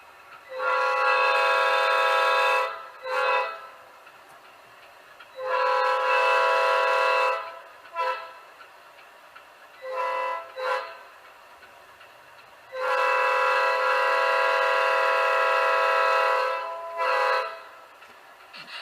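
A model locomotive's engine rumble and repeated horn blasts, played through small sugar cube speakers, come in several long sustained tones with brief toots between them, clear and close.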